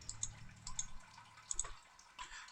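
A thin stream of water runs through a cave wall into a rock pool in a video game, with faint scattered drips and splashes over quiet, hollow cave ambience.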